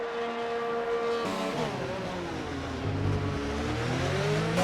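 Formula 1 car accelerating out of the final corner in F1 2019, a loud high engine note climbing through several quick gear changes, steady and close.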